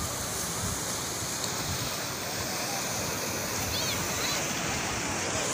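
Steady, broad rushing of ocean surf washing continuously onto a beach in Tel Aviv, Israel, with no distinct breaks between waves.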